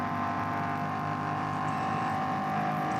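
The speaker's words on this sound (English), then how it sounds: "engine noise is about 2 seconds ahead of picture" A BMW race car competing in an NLS race at the Nürburgring drones steadily as its engine holds a sustained, loud, tonal note, heard from close by and with no change in pitch and no voices.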